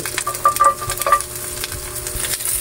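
Onion and garlic sauté in a pan with a continuous close crackling sizzle, accompanied by a few light metallic taps and scrapes of a spatula in the first second.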